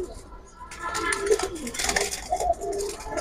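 Pigeons at a pigeon market give soft, close cooing calls amid handling noise, with someone talking nearby.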